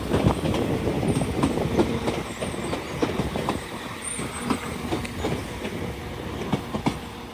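A Class 185 diesel train departing York station, a loud continuous rumble with rhythmic wheel clatter and faint high squeals, close by and steady throughout.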